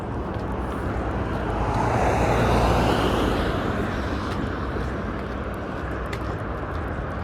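Road traffic on Sheppard Avenue West in North York's Humbermede neighbourhood, Toronto, a continuous roar of vehicles that swells as one passes close by, then settles back to a steady wash.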